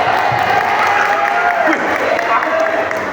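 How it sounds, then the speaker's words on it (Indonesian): Audience clapping at a school religious gathering for Isra Mi'raj, a steady dense patter of hands lasting throughout, with a voice calling out faintly over it. "Oke, tepuk tangan."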